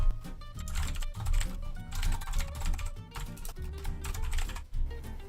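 Rapid, irregular clatter of keys on a computer keyboard as C# code is entered, close and clear, with brief pauses between bursts and no talking.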